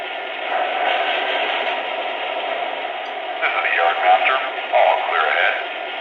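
Band-limited radio chatter from a K-Line GP38-2 model diesel locomotive's sound effects, with muffled, crackly crew voices over a steady hiss, continuous throughout at moderate level.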